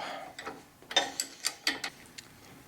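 A nut being tightened on a hydraulic pull wagon kit, a quick run of close ratcheting clicks from a hand tool, about eight sharp ticks.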